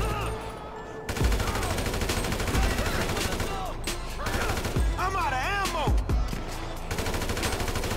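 Kalashnikov gunfire in GTA 5, dense bursts of rapid automatic shots with scattered single cracks over several seconds, mixed with shouting voices and game noise throughout.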